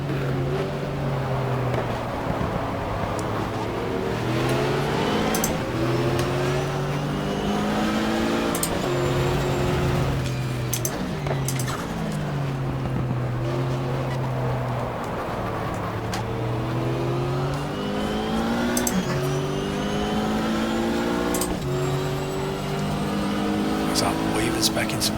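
Race car engines, including a Camaro, roar in the GTR2 racing game at the 1995 Daytona 24 Hour, loud and continuous, rising and falling through repeated gear shifts while a voice talks over them.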